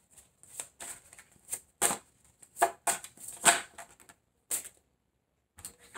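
Tarot cards are shuffled close up in quick rhythmic bursts of riffling and slapping, pausing briefly before a final flurry, with no voice.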